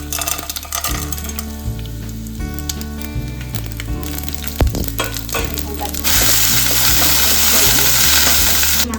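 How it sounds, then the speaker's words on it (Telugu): Spices for an okra tempering crackle in hot oil with a dense sizzle under a steady low hum, and the frying swells louder and brighter over the last few seconds. "కొంచెం ఆయిల్ పోసుకొని బెండకాయకు తాలింపు వేసుకోవాలండి"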